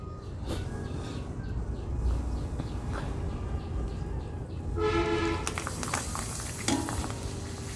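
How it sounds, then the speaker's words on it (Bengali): Syringe pitha dough puffs up in hot oil, producing a continuous bubbling sizzle with crackling bursts that swell and settle, close up and fairly steady throughout. "তেলটা ভালো করে গরম করে নিতে হবে, আর দেওয়ার পরই দেখুন এটা কিভাবে ফুলে উঠেছে।"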